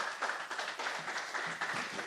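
An audience applauds lecturer Dr. Brown at an annual lecture series event, a dense, steady patter of many hands clapping at moderate level for about two seconds, with no voices standing out.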